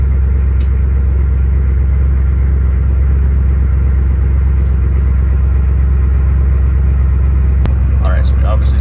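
A squarebody dually crew cab pickup's engine running after switching fuel tanks with a new selector valve: a loud, steady low rumble throughout, with a brief voice near the end.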